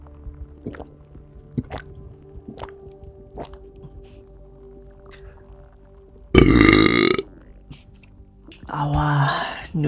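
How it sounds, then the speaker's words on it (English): A man lets out a loud, drawn-out burp after eating noodles, followed a moment later by a second, shorter burp, with quiet clicks and small wet sounds before them. "Noodle burp."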